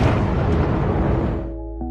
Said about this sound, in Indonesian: memicu ledakan yang menghancurkan seluruh area